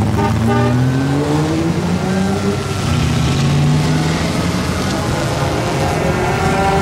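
A classic car drives past on the show field at the Pebble Beach Concours, its steady engine hum rising and falling in pitch as it passes close by, loud and continuous over a broad wash of outdoor background noise.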